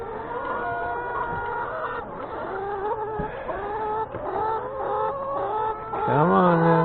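Backyard chickens cluck and murmur steadily at morning feeding time, with a rooster's crow rising loudly near the end.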